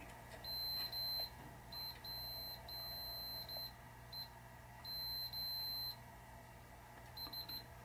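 A continuity tester probes the interconnect board of a 1988 Williams Taxi pinball machine, giving faint, high, steady-pitched beeps that start and stop irregularly, some brief and some held for about a second.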